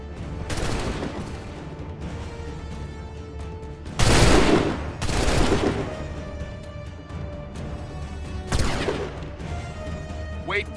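Musket volleys in Assassin's Creed 3 crack out on command, with loud ragged bursts near 0.5, 4, 5 and 8.6 seconds over a continuous battlefield din, while voices shout orders.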